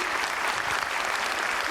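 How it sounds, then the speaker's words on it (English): An audience at a Glasgow film festival event applauds for James McAvoy in a dense, steady wave of clapping that swells louder at the very end. "round of applause to Mr. James McAvoy!"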